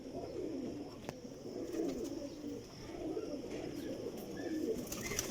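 Pigeons coo softly in a loft, low rolling calls repeating steadily over faint background rustle and distant noise, with no talk.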